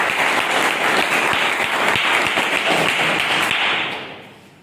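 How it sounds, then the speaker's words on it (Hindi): A large audience at a business training session breaks into dense, sustained applause, loud and steady for about four seconds before fading out. "चाहूँगा आप लोग जबरदस्त तालियां बजाने का"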